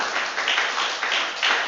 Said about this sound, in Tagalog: Gusto mo pumalakpak na malakas